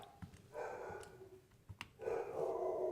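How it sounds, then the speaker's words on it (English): A dog howls and barks in another room, faint drawn-out howling tones broken by a couple of short yips, distant and muffled under a quiet indoor background. "my dog is howling"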